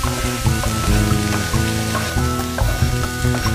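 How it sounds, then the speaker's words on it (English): Peppers and onions cook in oil in a pan with a loud, dense, continuous sizzle and crackle, stirred now and then with soft scraping, under a faint musical background. "we're going to add oil into the pan and cook the peppers and onions"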